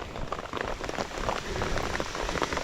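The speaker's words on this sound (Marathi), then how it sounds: "पाऊस आलाय" Steady unseasonal rain pattering on surfaces in a Konkan village, a dense continuous hiss with close drops, no voices.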